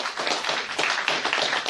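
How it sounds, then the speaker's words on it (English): A conference audience applauds panelists and organizers after a green infrastructure panel, with dense, steady clapping from many hands at close range. "give another round of applause for all of our panelists today and the organizers of this event"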